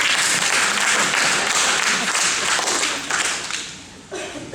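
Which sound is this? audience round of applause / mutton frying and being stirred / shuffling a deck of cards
audience round of applause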